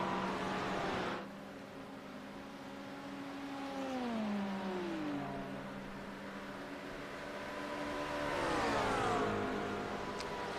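A McLaren GT race car engine in a sim racing game at Road Atlanta, its harmonic drone rising and falling as it climbs through revs, backs off and picks up again, steady and fairly close with no talk.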